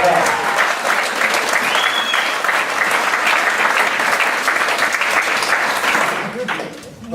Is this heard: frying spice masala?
no